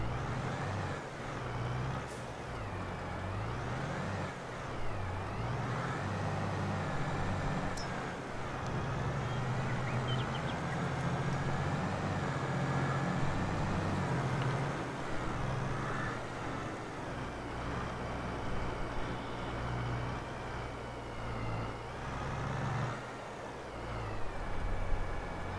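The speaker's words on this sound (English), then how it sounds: "I like that lorry. I am very fond of it." Heavy lorry engine droning steadily in Farming Simulator 22 on the British Greenlands map, a low continuous rumble with brief air-brake hisses and shifting pitch as it drives, no talking.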